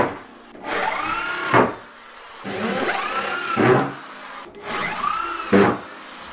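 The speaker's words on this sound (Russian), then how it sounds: "Доски буду крепить саморезами на 60 миллиметров." Power drill driving 60 mm self-tapping screws into wooden boards while building a collapsible sawhorse, three separate whirring bursts, each ending in a sharp rising strain as the screw seats.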